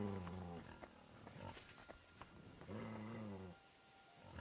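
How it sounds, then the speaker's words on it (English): A dog in Kingdom Come Deliverance 2 gives a few growling, yelping barks in uneven bursts, mid-distance and fairly faint, set against a low game ambience. "No one wants to hear your barking."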